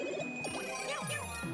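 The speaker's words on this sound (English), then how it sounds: "grab the Super Bell, and turn into Cat Mario." Power-up pickup in Super Mario Maker 2 as Mario grabs a Super Bell and turns into Cat Mario: a bright tinkling jingle with short rising chimes over steady game music.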